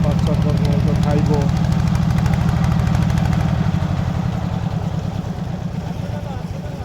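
Engine of a river fishing boat chugging in a fast, steady pulse, loud and near, the beat thinning out toward the end, with someone talking over it.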